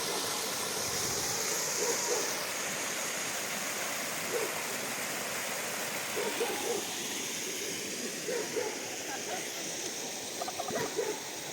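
Steady broadband roar of a little-known waterfall at Kamianka, close and continuous throughout, with faint voices and small bumps surfacing intermittently beneath the rushing water.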